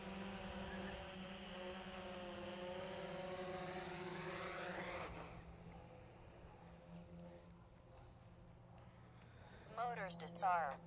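Drone motors and propellers on a test flight, a high steady whine with layered tones that cuts out partway, followed by quieter background and a brief rise of motor pitch near the end, faint and moderately close.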